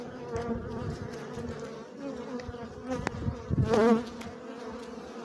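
Dense, continuous buzzing of many honeybees up close at an open hive, steady and droning, with small rises as individual bees pass nearby.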